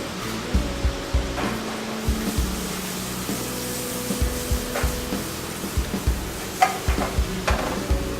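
Salmon and portobello mushrooms fry in a pan with a steady close sizzle, broken by repeated scraping and stirring strokes from a utensil, with no talking.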